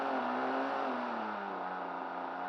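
A model airplane engine fitted with a homemade wooden propeller drones at a loud, steady pitch that slowly sags, with the aircraft held in place outdoors in strong wind.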